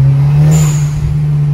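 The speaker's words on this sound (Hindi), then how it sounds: "एक विसल टाइप आ रही होगी, वो BOV की साउंड ही है।" Heard from inside a modified Skoda Octavia 1.8 TSI with a stage 2+ remap, a steady engine drone runs throughout while a thin blow-off valve whistle rises briefly in the middle, fairly loud and with no talking.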